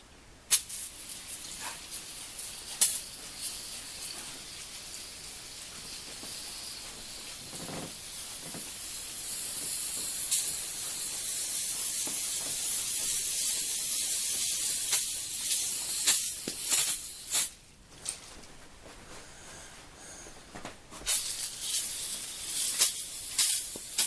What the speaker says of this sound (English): First thing I want to do, spray the floor